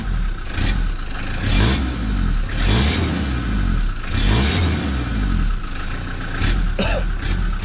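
A diesel car engine turning over and starting after the glow-plug preheat light goes out, loud cranking and revving in repeated surges close by, settling into an idle.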